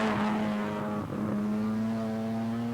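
A Holden Commodore space-frame sports sedan race car at Manfeild circuit, its engine a loud, steady high-revving drone that holds for the whole stretch with a brief dip midway, no voices over it.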